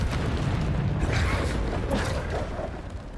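A rumbling, creaking blast from the Bombarda spell in the Hogwarts Legacy video game, a loud low boom swelling and slowly fading, with no talking.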